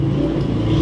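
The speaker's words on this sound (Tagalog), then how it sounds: "Wait lang, padaanin natin yung tricycle na dumaan." A motorized tricycle passing on a road, a steady low engine rumble that stays loud and close, with no talk over it.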